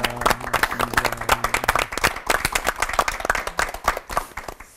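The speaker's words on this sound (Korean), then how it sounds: "세 분의 목사님께 뜨거운 박수 감사 표하겠습니다" A studio audience at a Korean church television lecture program claps for three pastors, giving lively, fairly close applause with sharp individual claps audible throughout, accompanied by some faint crowd murmur.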